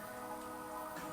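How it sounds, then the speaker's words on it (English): Steady rain falling outside in the background, a continuous soft patter of drops on a surface, fairly quiet and even throughout with no talking. "apologise if you can hear the rain in the background."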